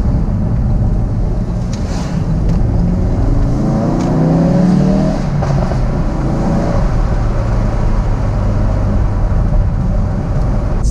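A Ford Focus RS fitted with a Mountune upgrade accelerates with a deep, throaty engine note that swells and holds, mixed with steady wind rush over the microphone and no talk.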